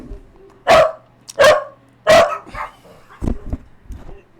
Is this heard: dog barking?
yes